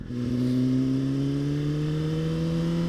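A 2020 Suzuki GSX-R1000 sport bike engine climbing steadily in pitch as it revs under load, loud and close, with a strong smooth harmonic whine and no talking.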